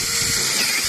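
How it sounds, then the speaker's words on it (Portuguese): A power drill with a thicker bit whirs steadily in a brief, close, loud burst while widening screw holes in wood for a wooden bench. "Essa é uma broca mais grossa"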